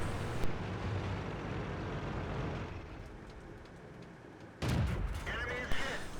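Tank engines rumble and an explosive cannon blast booms up close in the video game World of Tanks, T21, with a few crashing impacts following the shot.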